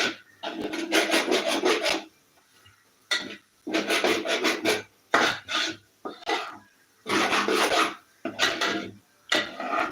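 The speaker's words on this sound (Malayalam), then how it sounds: "നന്നായിട്ടൊന്ന് ഇളക്കി കൊടുക്കുക" Breakfast food stirred in a pan makes rhythmic, close scraping strokes in quick bursts of several, separated by short pauses, like a spatula rasping across the pan surface.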